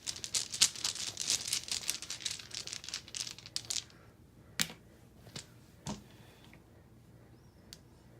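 Dice gathered and rolled for the board game Herbaceous Sprouts: a dense burst of quick clicking rattles over the first four seconds, then a few separate sharp clacks spaced apart in a quiet room.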